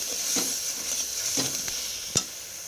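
Fenugreek leaves and masala with a little sugar and water are stir-cooked in a pan, giving a steady soft sizzle broken by several distinct scraping strokes of a spatula, close up, with no talking.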